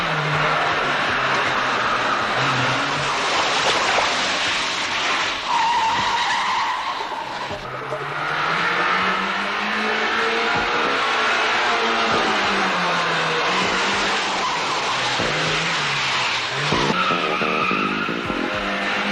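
Car tyres squeal loudly as the vehicle skids in a 1985 Georgian film, with long wavering screeches and a steady roar of road noise throughout.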